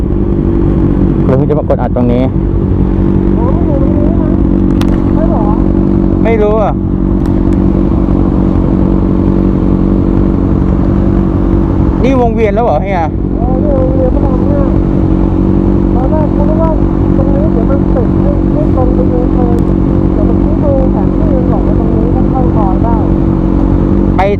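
A Kawasaki Ninja 400 motorcycle being ridden gives a loud, constant engine drone mixed with wind roar throughout. Voices talk over it at times.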